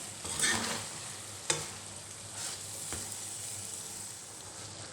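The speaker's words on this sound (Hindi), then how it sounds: "अच्छा तरह से पका लेंगे मैं जब तक टमाटर टूट जाए।" Tomatoes cooking down in a pan for chicken soup, a quiet steady sizzle broken by a few sharp spoon clacks and stirring scrapes close by.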